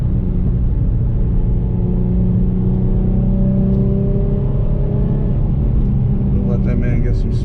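A Nissan 350Z Nismo engine pulls in second gear, heard from inside as a loud, steady low rumble and drone that holds throughout without a clear rise in pitch.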